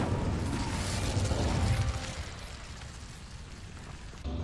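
An Incendio fire spell is cast in the Hogwarts Legacy video game, starting with a loud whooshing, roaring burst that thins and fades after a couple of seconds, then a brief rise near the end.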